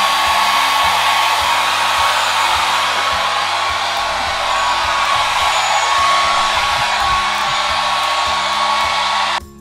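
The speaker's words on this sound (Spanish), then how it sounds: "Y voy a aplicar secador porque se dice muy seco." A hair dryer blowing steadily to dry resin poured over a plaster piece, a loud continuous airy roar that holds for nearly ten seconds before cutting off at the end.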